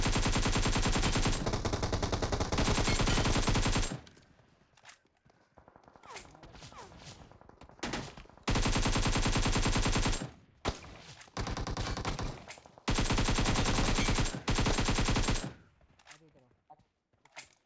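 Bursts of automatic gunfire from BGMI on the Erangel map, loud sustained volleys separated by quieter gaps with scattered single shots and faint movement.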